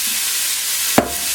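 Steady loud sizzle of a pound of 80/20 hamburger browning in a hot pan, with one sharp scrape or clatter partway through.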